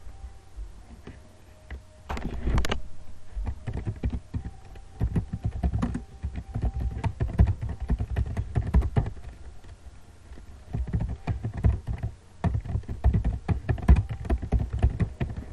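Typing on a computer keyboard while entering HTML code, a close run of irregular clicking keystrokes in quick bursts with short pauses between them, and no talking.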